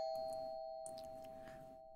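A doorbell chimes in the horror game Fears To Fathom, a faint tone ringing through a quiet room with a short sharp sound right at the end.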